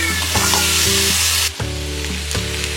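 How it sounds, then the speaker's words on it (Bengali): Shredded chicken is fried and stirred into a spice masala in a hot pan, with a loud, close, continuous sizzle. Repeated scraping strokes of a spoon cut through it, and a sudden drop in the hiss comes midway. No one speaks. "এবার এর মধ্যে শ্রেডেড চিকেনটা অ্যাড করছি"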